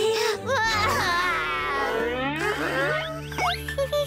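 Unni, a cartoon child, bawls in a long, loud, wavering wail that rises and falls, then breaks into a few short sobbing gasps near the end.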